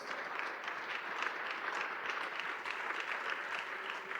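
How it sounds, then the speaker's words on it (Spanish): A church congregation breaks into sustained applause during a worship service, a steady, dense wash of clapping from many hands with no one speaking over it. "Un aplauso al Señor, hermano"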